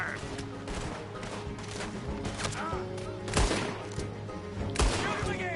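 Gunfire in the video game Red Dead Redemption 2, a dense exchange of rapid overlapping shots with two heavier blasts standing out, backed by a low rumbling score.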